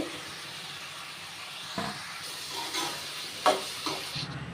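Onions and green chilies frying in a pan for a curry, a soft steady sizzle with a few scraping stirs and light clinks of a spatula.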